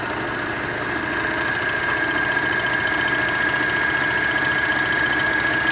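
A Bernina L450 overlock machine stitching fabric, running at a steady, fast even whir with a constant high whine, close and continuous with no pauses.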